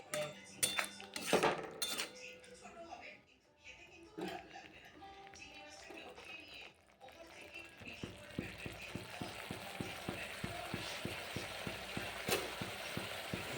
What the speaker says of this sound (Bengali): এখন মশলাটা আমি কষিয়ে নিচ্ছি